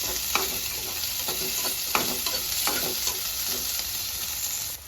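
Ginger and garlic fry in a pan with a continuous close sizzle, broken by repeated stirring scrapes in an uneven rhythm, with no talking.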